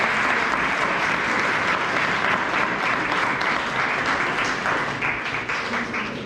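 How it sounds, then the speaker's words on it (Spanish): Sustained applause from a school audience for fourth-grade students at a civics education event, a dense, steady wash of many hands clapping at even loudness throughout, tapering slightly at the end. "así que un aplauso por su participación"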